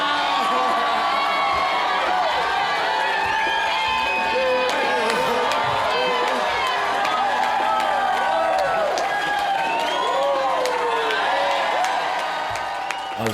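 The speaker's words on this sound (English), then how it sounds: "let's have a huge round of applause for Jamie" A large crowd at an event claps and cheers loudly and steadily, with whoops and shouts rising over sustained applause throughout.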